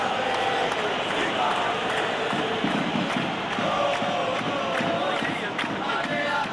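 Football stadium crowd applauding a good play during an international match, a broad steady roar of clapping and cheering that holds at a constant loud level throughout.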